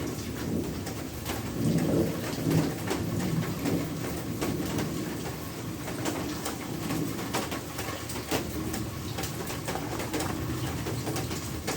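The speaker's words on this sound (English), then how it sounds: "getting pretty loud out there with the rain" Heavy rain from a storm pours steadily outdoors, with scattered louder drops and distant rumbles of thunder, while birds coo faintly in the background.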